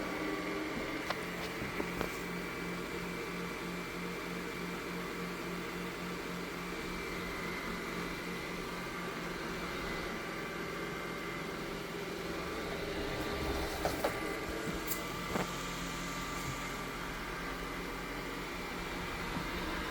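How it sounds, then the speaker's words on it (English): A Yeedi VAC 2 Pro robot vacuum runs at full speed with a faint, even motor whir and fan hum, broken only by occasional light bumps and clicks. "Starting vacuuming."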